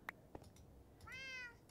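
Minecraft cats give a drawn-out meow after a couple of soft clicks, faint and close against a quiet background.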